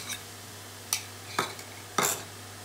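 Onions being stirred in a pan while cooking for soya nugget kebabs. A spatula gives about four sharp scrapes and clinks against the pan over a low steady hum, with only faint sizzling between them.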